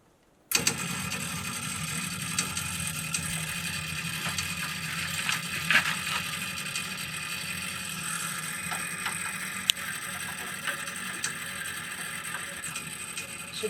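A generator at a satellite tower cranks on its starter button, a steady whirring, ratcheting mechanical drone that kicks in abruptly and runs continuously at close range with occasional clanks, no talking over it.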